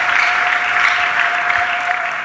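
A church congregation applauds, a dense, even wash of clapping from many hands, sustained and fairly loud throughout.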